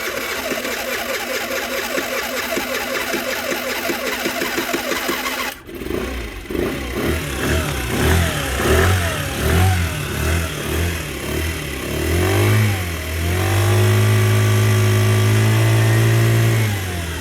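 A motorcycle engine cranks with a long, steady starter whir, then catches and runs roughly, revving up and down in uneven bursts before settling into a loud, sustained rev; the bike is said to stall easily.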